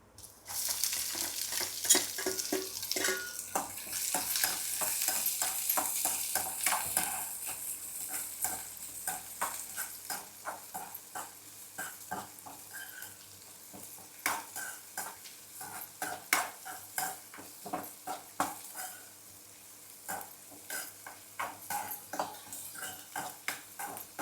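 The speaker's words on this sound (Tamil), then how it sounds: "பாருங்கள், வெங்காயம் ஓரளவுக்கு வதங்கினோன்னே போதும்." Onions and curry leaves sauté with carrots and beans for a poriyal in a pan, a soft sizzle under repeated rhythmic scrapes and clinks of a spoon stirring against metal, close and fairly quiet.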